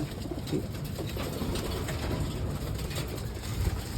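Pigeons coo softly and steadily in a loft against a low, continuous background rumble, with no talking.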